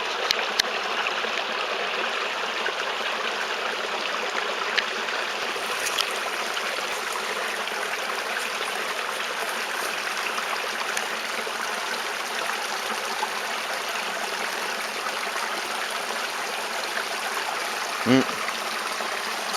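Creek water in the Appalachian Mountains flowing steadily, a continuous broadband rush with no pauses, one brief knock near the end.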